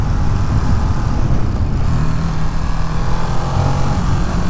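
A Ducati Monster motorcycle engine drones loud and steady while riding twisty country roads, heavy low rumble mixed with wind buffeting and no speech.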